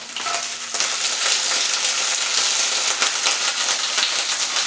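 Food sizzles steadily in hot oil in a pan while cooking for a bean, corn and avocado bowl, a dense, even crackling hiss that swells after a brief quieter start and holds close and loud throughout.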